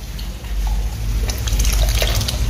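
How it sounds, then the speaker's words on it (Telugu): Tamarind water pours steadily into a simmering brinjal and dried fish curry, a close, continuous liquid splashing and gurgling with no talk. "చింతపండు నీళ్ళు కలిపారు"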